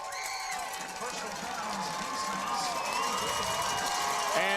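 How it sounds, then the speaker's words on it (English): High school football crowd at Letcher Central cheers and shouts in the stands, a dense roar of voices and whoops close around, with a commentator talking over it. "you can hear the Letcher Central crowd"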